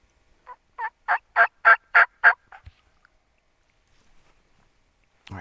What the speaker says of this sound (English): that one double gobbled, or there's 2 gobblers over there